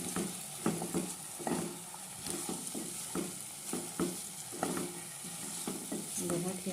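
Food being stirred in a hot pan in a home kitchen, with a steady sizzle of frying beneath repeated scraping strokes of the spoon at a regular rhythm, close and moderately loud, no talking.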